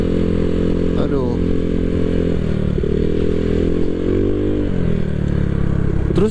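A bored-up Honda PCX 160 scooter with an aftermarket exhaust fitted with a dB killer runs steadily and loud up close, its engine drone holding throughout with brief shifts in pitch as the throttle changes.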